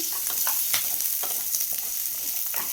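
Dried and green chillies with lentils sauté in a pan for banana stem chutney, a soft continuous sizzle broken by a few light stirring scrapes, close and moderately quiet.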